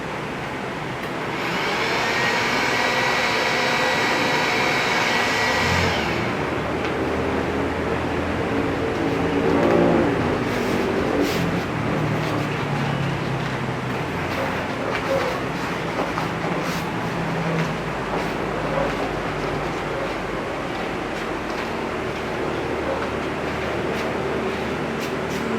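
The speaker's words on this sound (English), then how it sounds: "you can reheat it by using the heat gun, and then it will be sticky again" A heat gun blows a steady loud rushing roar close by as it rewarms hardened hot glue for a foam calla lily flower. The roar starts within the first couple of seconds and holds for the rest of the stretch with no talk.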